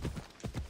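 Horse hooves clip-clopping in the video game Assassin's Creed Odyssey, a quick run of soft, muffled hoofbeats at a steady trot, faint and brief.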